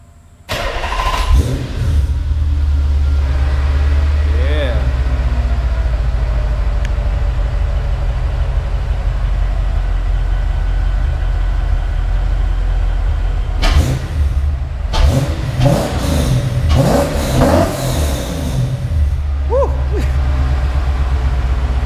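A Nissan 300ZX with a swapped VH45 V8 engine starts, settles into a low steady idle, then revs sharply several times in quick bursts before easing back down.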